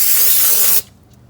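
Brake cleaner sprays onto brake parts from a can in one short, close, forceful hiss that cuts off abruptly, leaving near silence.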